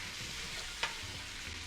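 Bacon frying in a pan, rendering out its fat: a steady, dense sizzle with a brief stirring scrape partway through, close and continuous.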